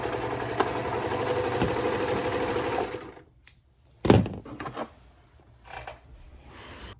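A serger sewing machine runs steadily for about three seconds as it finishes a seam on a garment, then stops, leaving a few faint clicks and handling sounds.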